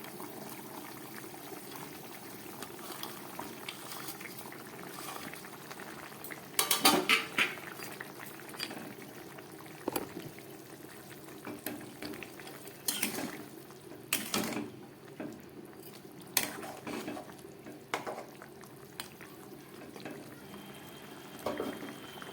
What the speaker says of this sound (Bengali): ঝোলটা একদম ফুটে উঠেছে।